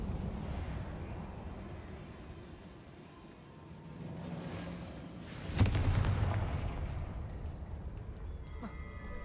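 A Confringo fire spell blasts in the Hogwarts Legacy video game, a single booming burst midway that rises over a rumbling background and fades slowly.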